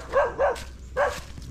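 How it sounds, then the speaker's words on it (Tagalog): A dog under a house barks three times in quick, close, sharp yaps, with a short pause before the last one. "So may aso dito mga silong."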